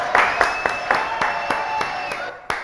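Audience clapping for performer Ghislain Fosset on a live French show, a run of distinct claps at a steady rhythm with a faint sustained tone underneath, fairly close and moderately loud.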